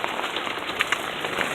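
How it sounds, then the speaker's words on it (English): Rain and hail pour steadily outdoors during unforecasted flash flooding, a dense close hiss with a few sharper pellet impacts standing out. "we're having flash flooding and we're having hail"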